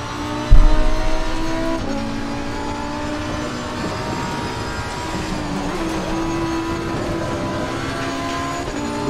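A Lamborghini Huracan Evo 2019 race car in Assetto Corsa Competizione at Bathurst, its engine a loud, continuous, close drone with rising and falling revs and gear changes and a sharp jolt near the start.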